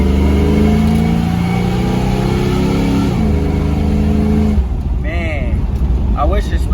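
A Chevrolet El Camino's engine revs while driving, its deep tone rising and falling in a loud, close rumble, with a voice heard over it near the end.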